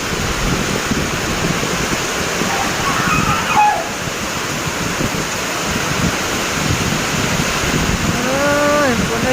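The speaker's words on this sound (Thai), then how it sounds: "ฝนหยุดตกเด้อฝนอย่าลมเด้อ" Heavy storm rain pours down steadily with gusting wind, a loud continuous roar throughout, while a voice speaks briefly underneath.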